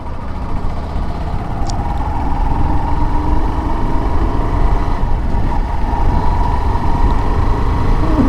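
A Hero Glamour Xtec 125 BS6 motorcycle engine running steadily while riding in fifth gear at low speed, a loud continuous drone with wind rush and no break.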